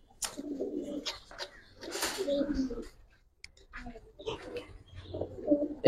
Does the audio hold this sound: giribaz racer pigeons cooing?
yes